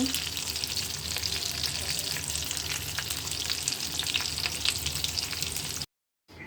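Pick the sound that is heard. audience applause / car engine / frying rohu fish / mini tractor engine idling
frying rohu fish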